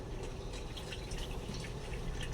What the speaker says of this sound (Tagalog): i-drainin natin mga karukban yan bumababa na yung tubig niya po